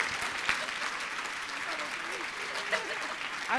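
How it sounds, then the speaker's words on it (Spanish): Conference audience in Saltillo applauding a participant, a steady wash of clapping from a crowd with a few louder accents, voices mixed faintly beneath. "Un aplauso para Hilda Yunli."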